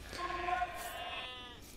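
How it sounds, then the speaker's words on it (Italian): Sheep bleat in Age of Empires II, a short wavering animal call heard clearly in the middle of the clip over faint game ambience, with a voice talking underneath. "prima avete sentito il suono delle pecore di nuovo, come se le avesse ritrovate"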